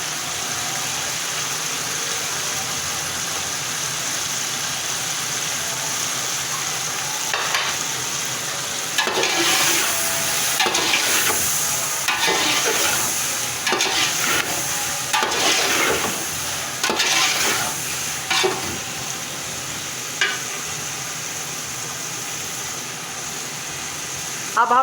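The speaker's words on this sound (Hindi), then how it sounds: "अब हम इनको फ्राई करते हैं" Vegetables and spices frying and being stirred in a pan for tandoori-flavored vegetable pulao, a steady close sizzle throughout with intermittent scraping stirs.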